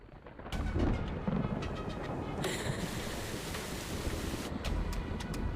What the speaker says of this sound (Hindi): ओह, बारिश।